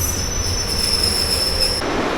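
An Intercity train rolls into Warszawa Zachodnia station with a loud, steady high-pitched wheel squeal over a rumbling undercarriage, close by, the squeal dropping away near the end.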